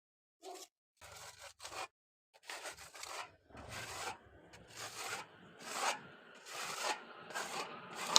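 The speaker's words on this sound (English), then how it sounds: "afterwards I'm going to take a trowel and just use it over the filler to smooth" A trowel smooths filler over an exterior wall during damp repair, giving repeated rasping, scraping strokes in short bursts that grow longer and louder, heard alone and close up.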